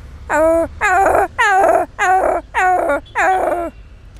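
Someone imitates a dog with six loud, close, whining bark-like calls in a steady rhythm, each drawn out and nasal, with short pauses between.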